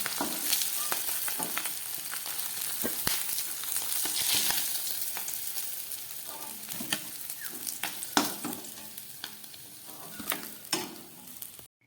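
Steady loud sizzling of fish frying in hot oil, with crackles and occasional stirring clatters, close up and without talk.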